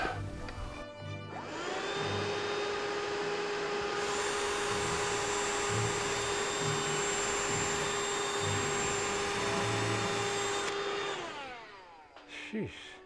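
A vacuum pump runs during a MrCool mini-split heat pump installation, starting up with a rising whir and then settling into a loud, steady whine for about nine seconds before spinning down, with faint knocks at the end.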